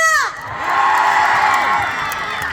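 A Korean autumn festival concert crowd shouts and cheers loudly for an encore, a dense high wash of whoops and screams that swells and holds for a couple of seconds.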